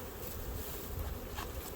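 Honey bees buzz at a small hive cluster in late February, a soft, steady drone heard close and faint, without pauses.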